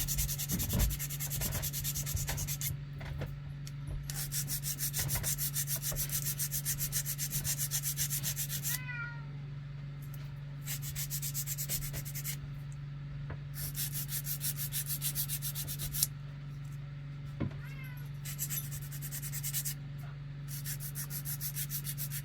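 Sanding turned wood on a lathe with 100 grit sandpaper, a steady close rasping rub in long bursts with brief pauses, over a constant low motor hum, no talking.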